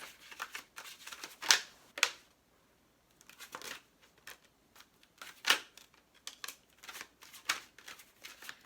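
Papery riffling bursts of tarot cards being shuffled, several quick crisp flurries with short pauses between, close and fairly quiet.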